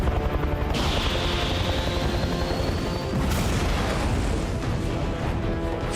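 A heavy helicopter roars continuously nearby, rotor noise dense and loud, with a sudden burst of broadband noise partway through.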